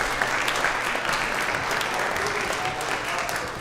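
Steady applause from a contest audience, dense and continuous for a few seconds at moderate distance, with no speech over it.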